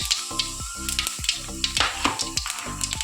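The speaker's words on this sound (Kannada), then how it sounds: "ಇವಾಗ ಫಸ್ಟ್ ಆಫ್ ಆಲ್ ನಾನು ಜೀರಿಗೆ ಹಾಕ್ಕೊತಾ ಇದ್ದೀನಿ." Cumin seeds sizzling and popping in hot oil, close crackling bursts and sharp spits over a steady frying hiss.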